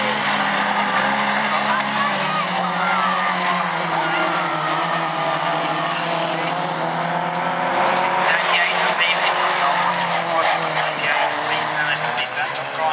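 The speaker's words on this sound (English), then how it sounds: "we're going to be racing race 2 of these Stock Hatches" Stock Hatch cars race on an autograss track at Nottingham, with engines roaring and revving continuously, tires skidding and squealing, and a loud, dense mix of passing cars throughout, while a person talks over the noise.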